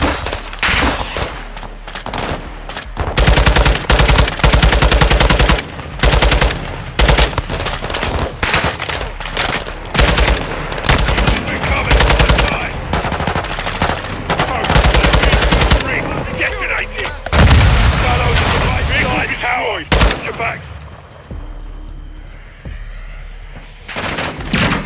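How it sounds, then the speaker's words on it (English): Dense, sustained automatic gunfire and rifle bursts from a Modern Warfare 2022 campaign firefight providing cover fire, loud and nearly continuous for about twenty seconds, with brief lulls and no talk. "My men need cover fire."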